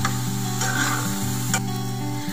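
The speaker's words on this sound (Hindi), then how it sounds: "चलिए आप अभी से अच्छे से फ्राई कर लेंगे।" Chicken masala fries in oil with a strong, continuous sizzle, with a steady low hum underneath and a couple of brief crackling bursts as it is stirred.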